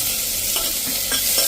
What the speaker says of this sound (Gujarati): એક ટમેટું સમાર્યું છે એને નાખી દેશું અને આ રીતે એને આપણે તેલમાં મિક્સ કરી લેશું.